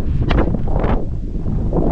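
Steady wind buffets the microphone with a continuous low rumble and rushing noise, with faint rustling throughout.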